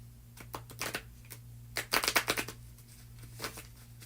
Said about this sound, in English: This deck is so old, but I've never shuffled it really like this. So it's still like hard to shuffle like that